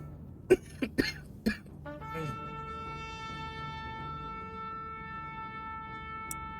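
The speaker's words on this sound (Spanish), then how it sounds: "Me disculpo por la tos" Three sharp coughs in quick succession, close to the listener, followed by a sustained steady tone with a hum underneath.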